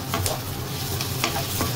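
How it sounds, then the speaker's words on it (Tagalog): Meat, including chorizo, is mixed and fried in a pan for fried rice, giving a steady close sizzle broken by several sharp spatula scrapes and taps against the pan. "i-mix natin itong karne"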